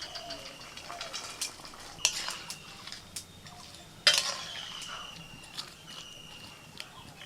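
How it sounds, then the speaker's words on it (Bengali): Fried small fish going into a pot of boiled mango for a sour curry, soft clinks and scrapes of a utensil against the pot with a couple of sharper knocks, faint and close. "আম সিদ্ধ হয়ে যাওয়ার পর ভাজা মাছগুলো দিয়ে দিচ্ছি।"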